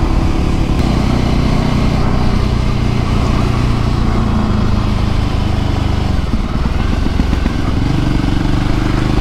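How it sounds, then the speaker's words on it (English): A Voge 300 Rally motorcycle on its stock exhaust drones steadily and loudly throughout, a continuous close engine note while riding, with a brief rumbling dip near the end. "quite an entertaining note from the stock exhaust on here"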